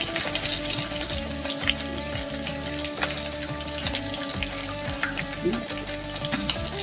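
Curry leaves sizzle in hot oil heated for frying coconut in a Kerala kitchen, a steady close crackling hiss with small irregular pops running throughout, no voices.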